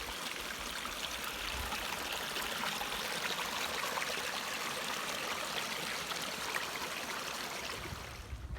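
Steady running water from a trailside stream on the Pacific Crest Trail trickling and babbling continuously, close and fairly loud, with no voices.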